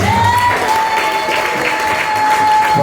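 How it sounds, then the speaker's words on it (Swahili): A church congregation claps together during an anointing service, dense steady applause filling the room without letup for about three seconds, with a faint sustained tone running underneath. "Makofi kwa ajili ya watumishi wa Mungu"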